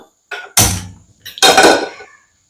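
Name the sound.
pan being set down on the stove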